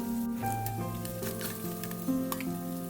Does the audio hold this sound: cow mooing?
no